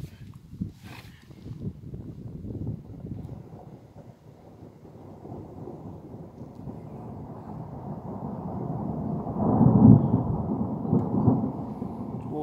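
Deep rolling thunder from a moderate hailstorm in Le Mans, a low distant rumble that slowly builds and peaks near the end, with no voices.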